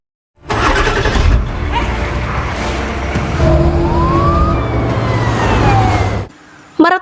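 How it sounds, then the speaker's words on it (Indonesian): Ambulance siren in a film scene, a rising and falling wail running over loud traffic and engine rumble for several seconds before cutting off, followed by a brief burst of noise. "ia membaca ambulans yang datang dan segera pergi menyusul Kate"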